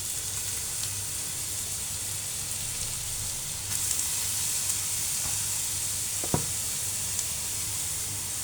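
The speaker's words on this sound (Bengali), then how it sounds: "ঘিটা গরম হয়ে আসছে আমি এখন গাজরগুলো দিয়ে দেবো" Carrots go into hot ghee for halwa and set off a steady hiss of frying that grows slightly denser partway through, with one sharp clink of a utensil, close and uninterrupted by speech.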